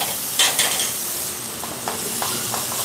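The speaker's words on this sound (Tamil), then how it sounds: "தக்காளி இதோ வதங்கிடுச்சு." Tomatoes sautéed in a pan are stirred, giving a soft sizzle with several light scraping clicks of a spoon against the pan, close and fairly quiet, with no talk.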